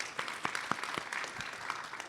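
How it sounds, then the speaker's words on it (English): Faint, scattered clapping from an audience at a TwitchCon developer panel for Plants vs. Zombies Replanted, a thin, brief round of applause. "can we get a round of applause again for our panelists?"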